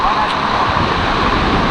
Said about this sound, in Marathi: आणि तुफान लाटा उसळलेल्या आहेत